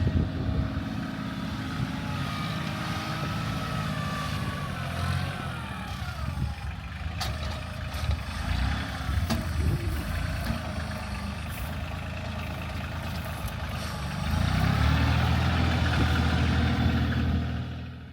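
A tractor engine runs steadily at a rural cabin site where a well line is being dug, a mid-pitched drone that shifts as the machine works and grows louder and rougher toward the end.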